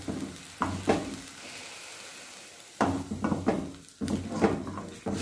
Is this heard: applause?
no